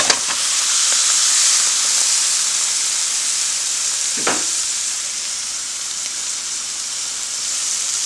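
A Flintstone steak sears loudly in a hot pan, a steady close broadband sizzle filling the whole stretch with one brief clatter partway through.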